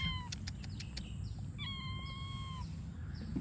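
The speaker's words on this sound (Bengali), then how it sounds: "কার পোষা বিড়াল" A pet cat meows several times, thin rising-falling cries in a short burst and then a longer one, heard outdoors at a rambutan orchard over steady low background noise, with no talk.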